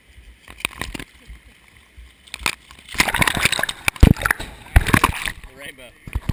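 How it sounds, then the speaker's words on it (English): People run and kick through shallow water, sending up a burst of loud, close splashes and sloshing, with voices talking over the commotion. "Kick up some water while you're running at"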